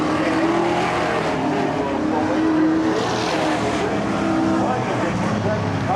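NASCAR Whelen Modified race cars roar off a corner at Seekonk Speedway, a steady loud engine drone with a race announcer talking over it throughout.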